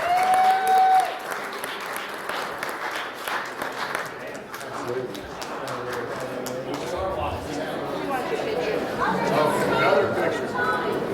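Spectators applaud anglers at a fishing tournament weigh-in outdoors, with scattered clapping that rises then settles into a loose patter beneath crowd chatter and nearby talking voices.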